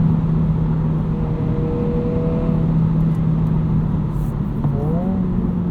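The engine of a 2022 Honda Civic Si drones steadily from inside the cabin while driving at night, with a constant rumble of road noise and a slight shift in pitch as it revs.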